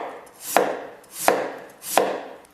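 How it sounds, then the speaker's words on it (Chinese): A kitchen knife slices a large peeled potato on a cutting board: three crisp, evenly spaced cuts, each a sharp close thud with a short scrape, alone in a quiet room. "去皮切片。"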